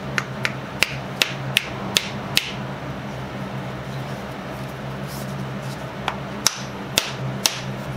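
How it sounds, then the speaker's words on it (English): Sharp wooden knocks from the back end of a desert ironwood hammer handle being struck to seat the head, about a dozen crisp close taps in uneven clusters over a steady low hum. "Simply hit the back, and that will push the handle forward, and the head will fall back."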